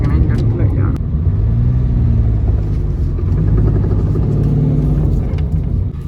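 Maruti 800 small hatchback with its original naturally aspirated engine, low steady rumble close up while the car turns, under talk throughout.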